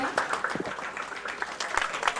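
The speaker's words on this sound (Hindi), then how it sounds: "जोरदार तालियां बजाकर इन बच्चों को प्रोत्साहित करें" Students who won first place at a science festival curtain raiser receive applause from an auditorium audience, a short burst of moderate clapping with some voices mixed in.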